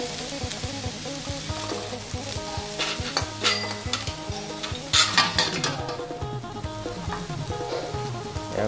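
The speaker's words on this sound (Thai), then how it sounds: "แล้วก็ผัดไปเลยครับคะน้าก็ใส่คะน้า" Instant noodles and kale are stir-fried in a hot pan, making a steady close sizzle with repeated rhythmic scraping and tossing. A few louder clatters of the utensil against the pan come partway through.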